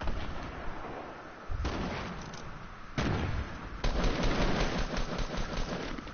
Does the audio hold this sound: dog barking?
no